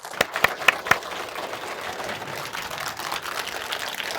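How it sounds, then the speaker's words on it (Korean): An audience claps after a Buddhist monk's dharma talk: a few sharp, louder claps at the start, then a soft, steady patter of applause that carries on evenly. "여러분 감사의 큰 박수 보내주십시오"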